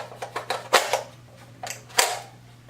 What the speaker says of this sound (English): Bolt closed, magazine sits. Bolt open, magazine sits.